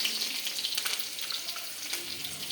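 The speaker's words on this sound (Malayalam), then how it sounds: "അപ്പോൾ കടുക് ആദ്യമേ വറുത്തു" Mustard seeds fry in hot oil in a home kitchen, giving a dense, close crackling sizzle with scattered sharp pops, steady and alone.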